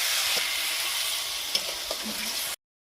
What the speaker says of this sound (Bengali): ভালোভাবে একটু নেড়ে জল দিয়ে দিলাম।